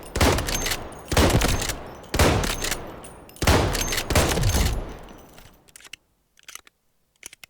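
Weapon fire at the firing range in Delta Force, four loud close bursts of rapid automatic fire separated by short gaps, then a few faint clicks and taps in near silence.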